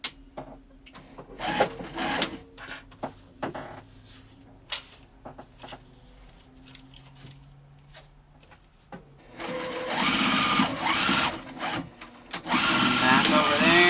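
A sewing machine stitches a sling bag in several short bursts, then runs in a longer, louder stretch near the end, with light handling knocks between runs.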